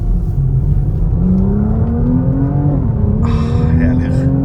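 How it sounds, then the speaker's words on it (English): Audi RS5 engine revving hard during an acceleration pull on an airstrip, a loud steady drone climbing in pitch, then a shift and a second rise, with a faint voice in the background. "I want to do a quick little RS5 pull"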